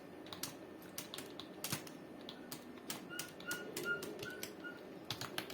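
Computer keyboard typing an answer into a simple quiz program, a steady run of quick light key clicks with a few louder taps, close and alone.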